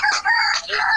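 A rooster crows loudly and close by, a strained, harmonic call repeated in two bursts across the second.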